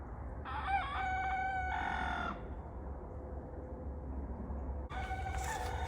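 A rooster crows twice on a farm, calling his hens: a loud, drawn-out cock-a-doodle-doo near the start and another beginning near the end, over faint outdoor background.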